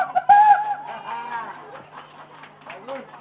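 People at an Indonesian seven-month pregnancy ceremony imitate a rooster crowing with their voices, one loud drawn-out call followed by softer mixed vocal sounds and chatter.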